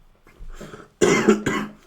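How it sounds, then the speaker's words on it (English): Two or three harsh coughs close to the mic, with a quieter breathy sound just before them. "sorry about that. Coughed again."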